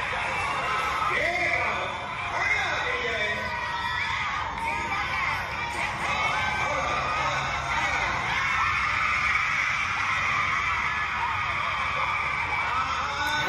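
A crowd of young people yells and screams continuously at a lively gathering, a dense, loud wall of shouting and whooping with overlapping voices throughout.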